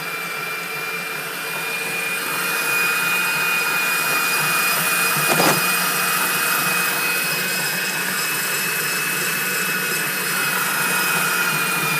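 The motor of a K7500 machine runs with a loud, steady high-pitched whine and airy roar, sounding like a vacuum, with one brief clunk partway through and no voices.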